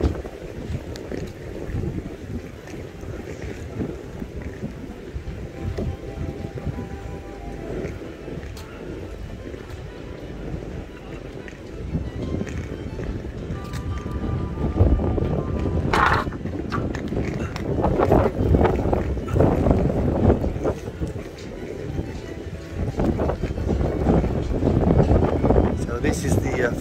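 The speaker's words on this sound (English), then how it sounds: "fast ferry boat to Samos" A fast ferry boat travels from Kusadasi to Samos, its engine rumble and hull noise blending with steady wind buffeting the microphone, while people talk throughout.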